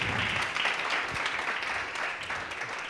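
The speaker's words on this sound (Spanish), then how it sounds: "un aplauso para Marcos" A conference audience claps for a science outreach speaker at the end of a talk, a moderately loud, even patter of applause that fades slightly over its few seconds.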